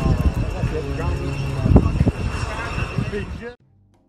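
An airplane tries to take off in strong wind but fails to lift off and is wrecked, its engine droning and rumbling under a person talking, before the sound cuts off abruptly near the end.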